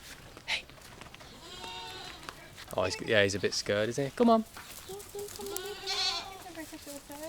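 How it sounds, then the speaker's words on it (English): A tiny goat on a rickety bridge in Savannakhet, Laos, bleats several times in quavering calls close by, mixed in with people talking over it. "That is such a cute goat."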